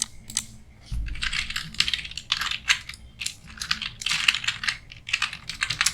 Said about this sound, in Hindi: इसका भी मैं पहले हेडिंग टाइप कर देता हूँ